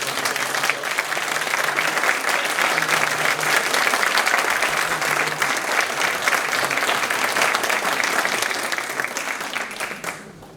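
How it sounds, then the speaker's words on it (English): A conference audience gives students a long round of applause, about ten seconds of dense, even clapping that fades out at the end. "we need to give another round of applause for our students"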